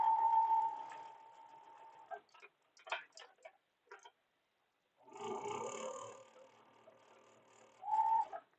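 A sewing machine stitches quilt blocks together, humming in short runs with rapid ticking, separated by quiet pauses and scattered soft clicks, fairly faint and close.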